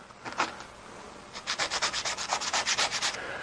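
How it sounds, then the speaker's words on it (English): Small wooden ornament pieces rubbed flat against a sheet of sandpaper, a brief scrape followed by a quick run of steady back-and-forth rasping strokes, close and clear. "I'm just going to put them flat on it and rub them a little bit."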